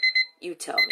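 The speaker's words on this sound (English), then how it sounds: "Ooh, that's my alarm." An alarm beeps in short, loud, high pulses that repeat quickly, with a voice speaking briefly between the tones.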